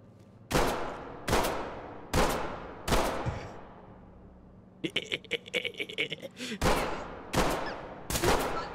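Pistol gunfire in Ready or Not: loud single shots ring out at a steady beat, a rapid burst of smaller cracks follows, and then more spaced single shots.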